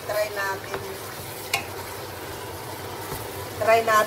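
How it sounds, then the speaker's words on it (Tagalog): Pork being sautéed with onion and garlic in a pan, a steady soft sizzle with occasional stirring scrapes and clatters, heard under a person talking. "ginisa ko siya ng sibuyas at garlic"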